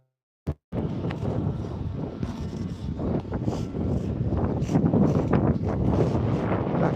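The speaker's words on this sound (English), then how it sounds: "I can hear the wind." Wind blows steadily outdoors on a breezy day near a garden, a continuous broadband rush with gusty swells that grows slightly stronger toward the end, after a brief thump at the start.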